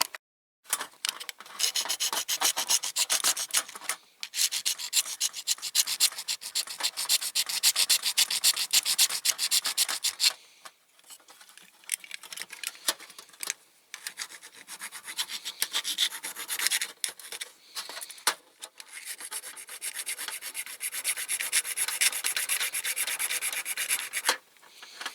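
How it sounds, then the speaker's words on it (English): Metal file rasping by hand across protruding rivet heads on a die-cast Dinky Toys Jones Fleetmaster cantilever crane, close and steady rough strokes in long bursts with short pauses. "I'll just file the top off by hand and then drill them out."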